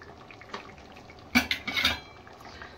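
A spoon stirs goat head curry in a pot, scraping and clinking against the metal in a quick burst of several knocks after a faint earlier tap, close and fairly quiet with no talking.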